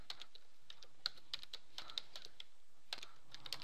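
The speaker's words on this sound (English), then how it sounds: "open up your web browser and type in your default gateway" A router address is typed into a web browser's address bar on a computer keyboard, giving light, close key clicks in short irregular bursts with brief pauses between them.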